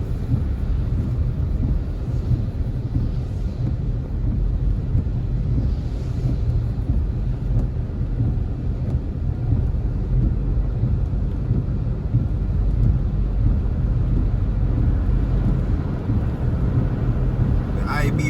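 Strong cold-front wind in Montego Bay, Jamaica, buffets the microphone as a continuous low roaring rumble throughout, loud and unbroken.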